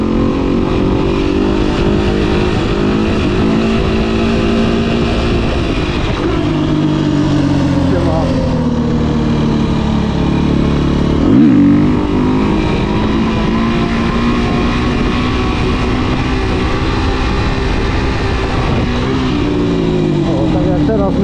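A motorcycle engine roars loud and steady with the throttle held open through a wheelie, its pitch swelling and dipping slightly, with a rider talking over it.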